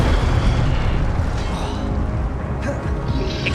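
Hogwarts Legacy Incendio fire spell: a loud, sustained booming blast with crackling bursts, roaring close and dense for the whole stretch.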